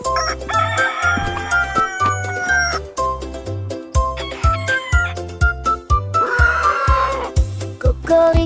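A rooster crows in a children's song over a bouncy musical backing with a steady bass beat, the crowing loud and upfront among bright melodic notes.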